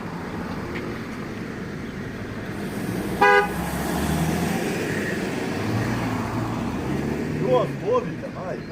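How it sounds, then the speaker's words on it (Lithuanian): Cars pass on a road at night with a steady low traffic rumble, a short car horn toot and a faint later honk, while people talk nearby. "dabar mašinos važiuoja"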